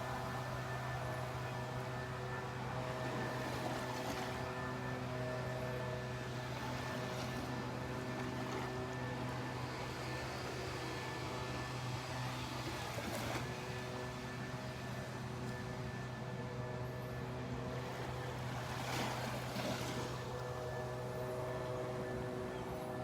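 A ranger's blower clearing a beach boardwalk at Delnor-Wiggins, a steady droning engine hum heard from a distance under constant outdoor wind and surf noise.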